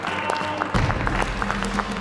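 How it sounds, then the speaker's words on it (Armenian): A studio audience claps for a contestant on a game show, steady moderate applause with a few sharper individual claps standing out. "Ժաննային ուզում եմ մի հատ բարձր ծափարենք"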